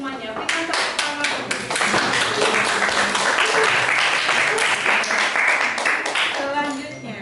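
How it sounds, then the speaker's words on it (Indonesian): A school class claps together in a burst of applause that swells, holds for several seconds, then tapers off, with a few voices mixed in. "Berikan tepuk tangan."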